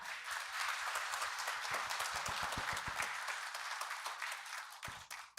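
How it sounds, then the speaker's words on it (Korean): Audience applause fills a Korean road-infrastructure conference hall as a presenter from a construction research institute is welcomed to the stage, many hands clapping steadily and densely for about five seconds before tapering at the end. "큰 박수로 환영해 주시기 바랍니다"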